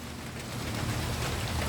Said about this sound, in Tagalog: Nabutan kami ng malakas na ulan, kaya lipat kami dito sa loob.